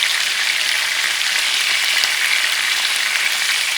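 Lemon chicken frying in a pan just after being flipped, giving a loud, constant, bright sizzle that holds steady throughout.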